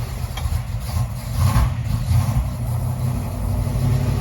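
A vehicle engine idling after an exhaust leak repair, a steady low rumble running evenly throughout with a slight swell in the middle, close by and with no talk.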